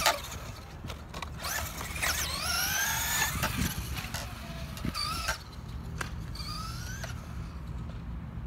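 A Traxxas Slash 2wd RTR electric RC truck drives around a skatepark, its motor whining in rising and falling pitch sweeps as it accelerates, with rattling knocks from landings and tumbles, fairly close.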